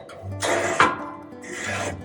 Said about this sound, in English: This lever to pull through, it scrapes any ashes off of these air tubes up here.